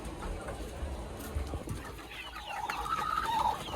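Hen clucking near her newly hatched chicks on a farm, soft repeated clucks with faint higher chick peeps toward the end over steady background noise.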